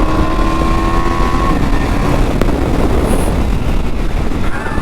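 KTM Duke 390 BS6 motorcycle engine running steadily and loudly near the microphone, a continuous broadband roar with some rising harmonic whine, wind noise mixed in, no speech.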